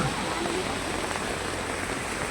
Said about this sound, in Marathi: बघा पावसाचे दिवस आहे, तोही आपला साक्षीला आहे, तो येणार